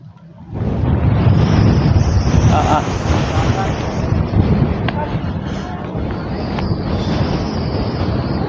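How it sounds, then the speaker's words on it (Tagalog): Strong gusting wind roars across the microphone while fishing at Angono, Rizal, starting abruptly and staying loud and steady throughout. "Grabe, yung lakas ng hangin na ba?"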